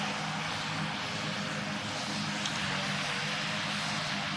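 A small aircraft engine held at about 75% throttle in the Roblox flight game PTFS gives a steady, even drone that runs alone through the whole stretch with no change in pitch or level.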